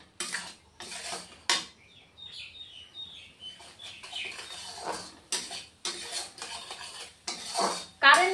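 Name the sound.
sautéing Bengali rui fish curry masala in a pan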